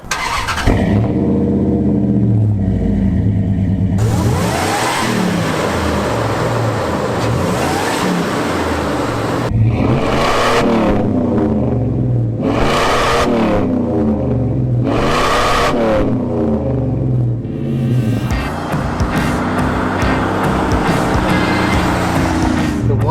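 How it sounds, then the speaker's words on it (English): A Dodge Durango Shelby SP360 V8 with a supercharger fires up close by and revs repeatedly in loud bursts, its engine roar rising and falling with a steady supercharger whine beneath. "Why don't we fire this thing up and hear that supercharger whine?"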